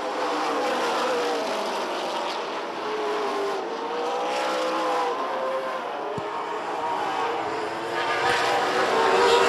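Race cars on an oval track come off turn 2 amid lapped traffic, engines droning and swelling as they pass at a moderate distance, with pitch sweeping up and down.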